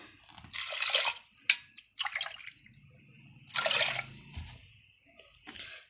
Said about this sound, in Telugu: 1 గ్లాస్కి 2 గ్లాసులు వేస్తున్నాను వాటర్